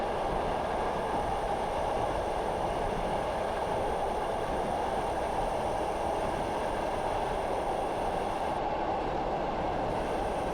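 A train rolls steadily along the Stour Valley line in Train Simulator Classic, approaching Chappel and Wakes Colne; a continuous, loud rumble of wheels and carriage noise with no talk.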